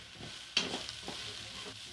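Chopped onion, garlic and ginger fry in a pot for a chicken curry stew, giving a quiet sizzle. A sharp stirring clack is followed by softer scrapes.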